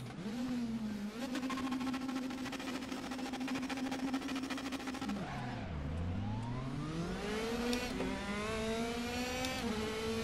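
A Mercedes-AMG race car in RaceRoom at the Red Bull Ring roars off the start line. Its engine climbs through repeated revving upshifts, loud and up close, with rising pitch sweeps between gear changes.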